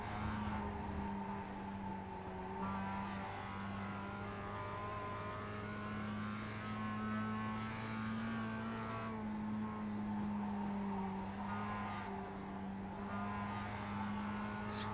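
Porsche race cars in iRacing at Mosport drone steadily with a sustained engine whine, the tone rising slightly at moments as cars pass, heard continuously at moderate level.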